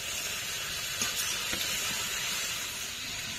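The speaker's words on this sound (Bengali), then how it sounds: "এবার কিছুক্ষণ আবারও ভেজে নেব।" Chicken curry with potatoes, tomato and spices fries in a pan, giving a steady, close sizzling hiss with faint crackles throughout and no talking.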